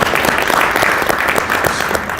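Audience applause at a CalFresh Employment and Training local plan forum, dense steady clapping from a crowd filling the room for a couple of seconds without talk.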